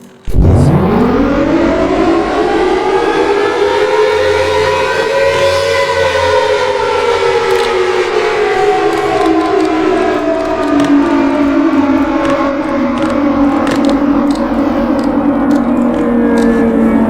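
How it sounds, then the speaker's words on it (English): Tornado warning siren under test, a loud sustained wail that winds up in pitch and then slowly falls for about seventeen seconds, with no talking over it. "I'm going to turn on the siren."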